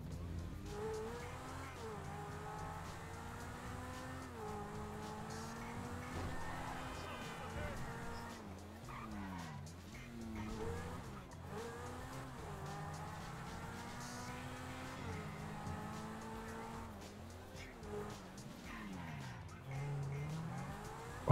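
A pink Cheetah sports car in GTA Online drives with a constantly rising and falling engine whine as it shifts and revs, playing steadily beneath occasional talk.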